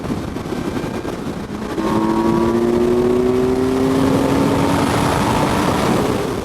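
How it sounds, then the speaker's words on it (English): 2022 Kawasaki Z900 50th Anniversary Edition with an inline-four engine and stock exhaust, a steady loud engine drone on a ride that rises into a smooth, climbing pull as the revs build. "I really just love that Inline-four sound. This bike has a stock exhaust on it, obviously, so it's a little quiet"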